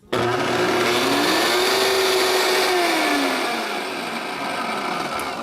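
A Vitamix E320 blender pulsed at its top variable speed gives a loud, steady motor roar with a rising and falling whine, then eases off slightly toward the end. No one speaks over it.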